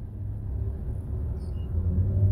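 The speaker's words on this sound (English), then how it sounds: "these loud ass cars that don't be going no goddamn where" A loud car engine rumbles outside, a steady low drone that swells toward the end as it seems to pass close by, with no one speaking over it.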